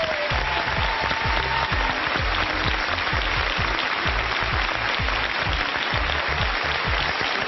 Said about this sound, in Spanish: Un aplauso para el señor Emilio Estefan.